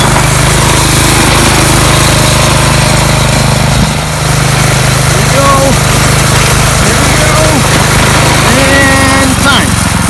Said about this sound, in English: I'm just going to try the racetrack with Maddie's go-kart.